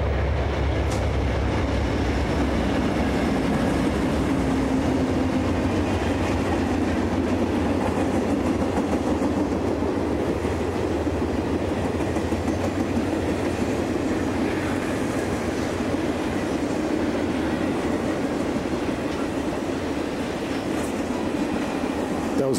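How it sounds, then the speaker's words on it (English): An Amtrak passenger train rumbles steadily past, close and loud, with continuous rail noise and faint clacking of wheels throughout. "That was a regular Amtrak passenger train, not a commuter train as before."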